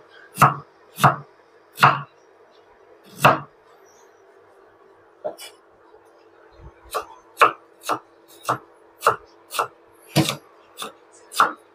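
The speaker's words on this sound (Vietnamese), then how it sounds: "Gừng thì mình xắt nhỏ nhỏ ra" A knife chops ginger sharply on a cutting board in irregular strokes, a few slow hits then a quicker run of close, crisp chops as it is minced fine.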